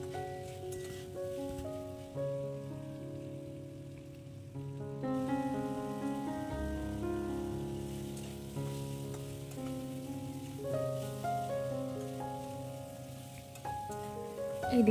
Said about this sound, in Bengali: এইবারে আমি কিছুক্ষণের জন্য এটাকে কষিয়ে নেব ভালো করে